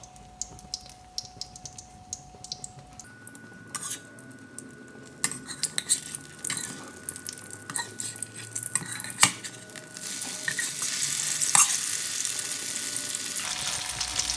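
An omelette stuffed with minced beef and holy basil fries on low heat in a pan, a faint, steady sizzle broken by scattered light clicks and scrapes, growing into a louder, hissier crackle toward the end.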